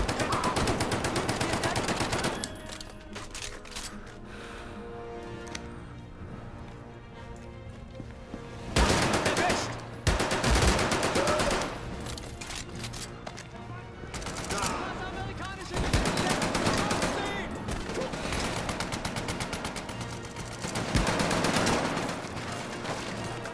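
Heavy gunfire in the video game Medal of Honor: Above and Beyond at the Gestapo HQ mission, dense bursts of automatic fire and fusillades rolling on and off throughout, loud and close, with occasional voices underneath.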